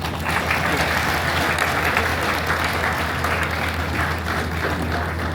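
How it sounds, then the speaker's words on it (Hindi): Sustained applause from an audience at a Corps Foundation Day celebration program, steady and dense for the full stretch with no break, loud and even throughout. "तालियां रुकनी नहीं चाहिए।"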